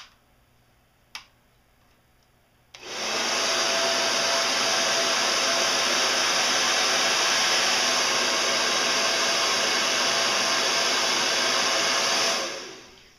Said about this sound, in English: I'm going to actually turn on my hair dryer and it's going to get a little loud for a little bit